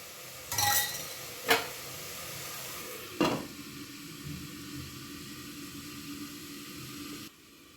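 Food being stirred in a pan with a tomato mixture, a few sharp utensil scrapes and clinks early on over a soft, steady sizzle that continues alone until it cuts off near the end.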